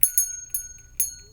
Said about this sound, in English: clean the energy off the cards with a bell.